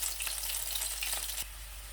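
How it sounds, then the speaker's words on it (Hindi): Potatoes fry in a pan with a steady, close sizzle and crackle that runs evenly, then drops noticeably quieter partway through and keeps going more softly. "आलू हमारे काफ़ी हद तक फ्राई हो चुके हैं"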